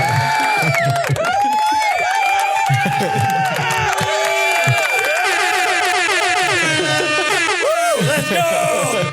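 A crowd cheers and whoops loudly at a close, energetic pitch while an air horn blasts repeatedly, with shouting voices layered throughout a live recording cast.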